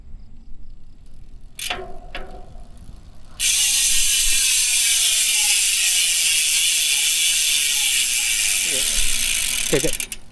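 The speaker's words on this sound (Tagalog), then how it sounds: "yan yung tunog ng Speed 1 Torpedo MTB hubs kapag naka-free wheel." A rapid, continuous buzzing click of a Speed 1 Torpedo mountain bike hub freewheel spinning, loud and close, after a few brief clunks and handling noises.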